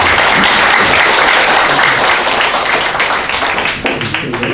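An audience at a Korean lecture breaks into sustained applause at its close, dense overlapping clapping that holds steady and then thins slightly toward the end.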